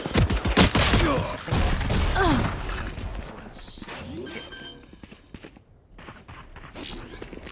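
Video game gunfire with a wallbang headshot: a flurry of sharp shots at the start, then scattered impacts, footsteps and mechanical clicks fading out, under a commentator's voice.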